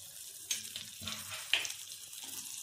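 Curry leaves and green chilies crackle and sizzle in hot oil with asafoetida, a steady close frying hiss with sharp pops near the start and middle, no voices.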